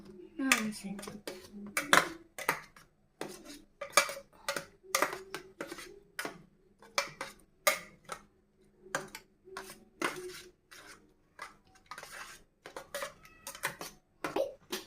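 Moringa leaf omelette batter being mixed in a bowl, with a rapid series of sharp clinking taps against the bowl, fairly quiet and close, with brief speech in between.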